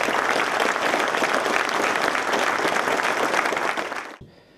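Warm, sustained applause from an audience at a book presentation honouring volunteers Toos and Piet, dense steady clapping that fills the room for about four seconds before cutting off abruptly.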